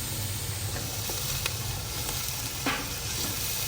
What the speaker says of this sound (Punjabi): ਇਹਨਾਂ ਨੂੰ ਮੈਂ ਚੰਗੀ ਤਰ੍ਹਾਂ ਫਰਾਈ ਕਰਾਂਗੀ ਤਾਂ ਕਿ ਗੋਸ਼ਤ ਜਿਹੜਾ ਵਾ ਨਾ ਉਹ ਪੱਕ ਜਾਵੇ